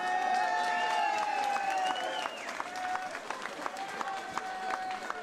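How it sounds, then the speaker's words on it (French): A crowd at the Martelange carnival enthronement ceremony applauds steadily, with whistles and cheers layered over the sustained clapping. "ça vous mérite les applaudissements"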